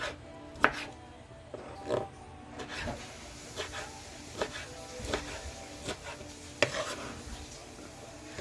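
A knife slices through a tomato on a cutting board in a home kitchen, giving a steady run of crisp, close chopping taps about once a second, each a sharp thud against the board over light background noise.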